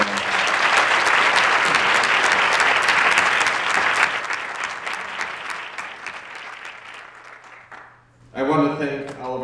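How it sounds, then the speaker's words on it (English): Audience applause at a school awards ceremony, loud sustained clapping that gradually thins and fades, followed by a speaker resuming over a microphone near the end. "let's give them a round of applause"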